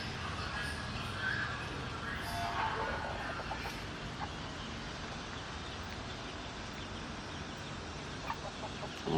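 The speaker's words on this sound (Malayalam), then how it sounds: "അതൊരു കോഴിയുണ്ട്, ഒരു കൂട്ടിലൊറ്റക്ക് കൂടുന്നതാണ് ആ കോഴി." A chicken kept alone in a coop clucks faintly at morning feeding time, with soft intermittent calls over a steady low background hiss.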